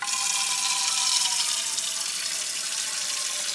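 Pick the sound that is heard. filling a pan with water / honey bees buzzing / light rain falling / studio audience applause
filling a pan with water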